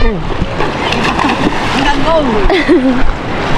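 Strong sea waves splash and churn close by along a beach, a constant rough wash under lively talk and shouting from people nearby.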